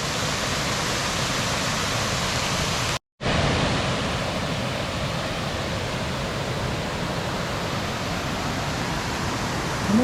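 A creek flowing near an old stone fort, a continuous broadband wash of water that stays loud and steady, cut by one brief silent gap.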